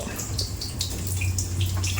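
Water drips and drains steadily during a membrane test, a continuous close trickling wash with scattered splashy ticks over a low hum, with no pause for the whole stretch.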